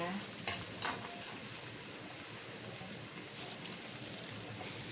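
Garlic and onion frying together in a pan, a steady close sizzle with a couple of brief stirring clatters near the start, no talk over it.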